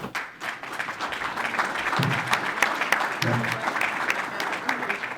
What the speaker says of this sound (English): I think we do owe them a round of applause